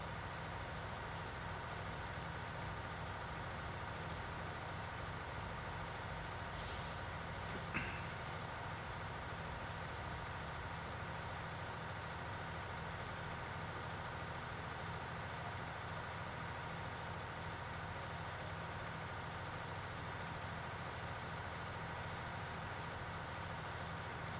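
A tractor engine idles in a farming video game on the Thuringian Oberland map, a steady low drone that holds at an even level for the whole stretch with no talking.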